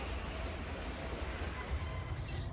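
Steady rain falls near a porch, a soft continuous hiss with low rumble, even and unbroken throughout, with no voices.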